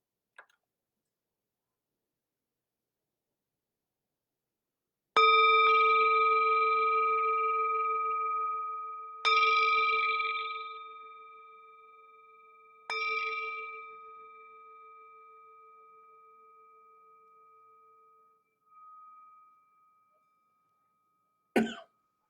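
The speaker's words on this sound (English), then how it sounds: "The sound of the bell returns us to our true home." A meditation bell is struck three times in slow succession, each clear ringing tone lingering and fading before the next, in an otherwise silent room with a faint tap at the start and end.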